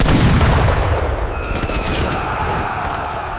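Musket volley in a historical battle reenactment: a dense roar of massed gunfire opens loud and close, then rolls on as a sustained rumbling fusillade with scattered cracks, no voices.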